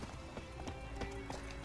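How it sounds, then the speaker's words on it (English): Horse hooves clip-clopping in The Witcher 3 video game, a steady quick rhythm of hoof strikes at moderate level, faint and somewhat washed under game ambience. "let's get on my horse."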